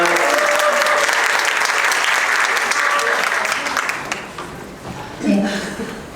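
An audience at a school end-of-term meeting applauds, loud sustained clapping that fades out, followed by a brief voice.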